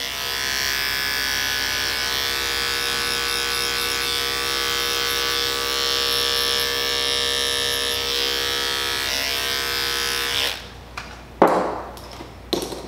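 Barber clippers with a 1.5 detachable blade cut hair for a wave haircut, humming in a constant close electric drone for about ten seconds before shutting off, followed by a few knocks and clatters of handling.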